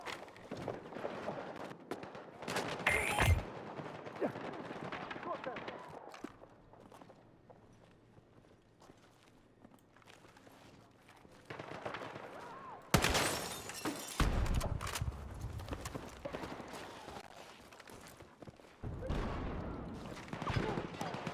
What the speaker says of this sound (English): Contact! Taking fire!